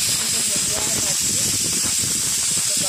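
A pressure cooker on a gas stove, cooking meat for a Hyderabadi lunch, releases a continuous bright hiss of steam, close and steady for the whole few seconds, with a voice faintly underneath.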